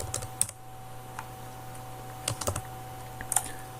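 Computer keyboard typing while entering text into a text box in floor plan software, a few scattered clicks and short bursts of keystrokes over a quiet room hum, close and fairly soft.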